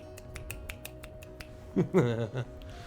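A quick series of crisp finger snaps in a steady rhythm, used as applause for poetry in the game Chrono Cross, close by, followed by a brief spoken voice.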